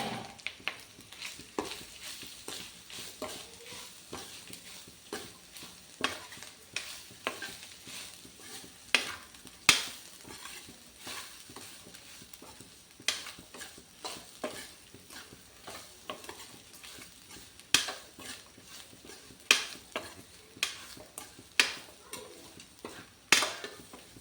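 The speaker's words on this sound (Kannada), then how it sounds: "ಈಗ ಕಾಯಿ ತುರಿ ಹಾಕಿ ಮಿಕ್ಸ್ ಮಾಡ್ಕೊಳ್ಳಿ." A spoon stirring grated coconut into a frying suvarna gedde (elephant foot yam) and chickpea curry, with repeated scraping strokes against the pan over a soft continuous sizzle, close and rhythmic.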